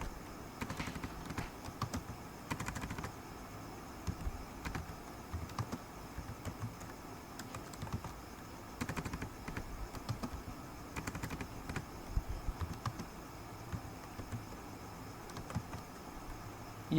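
Steady typing on a computer keyboard continues for a long stretch, with irregular bursts of crisp key clicks and brief pauses, close and alone in a quiet room.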